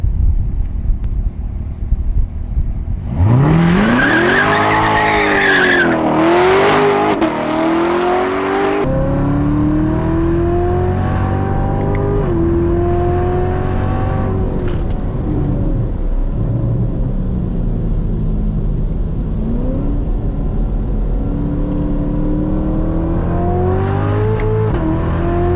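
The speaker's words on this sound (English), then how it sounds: "We're gonna get Tanner into the ZR1 and we're gonna set a baseline." A Corvette ZR1 race car on a time attack lap launches from the pits with a loud engine roar. Revs climb and fall through gear changes, then settle into a sustained, close, powerful drone, with no talking.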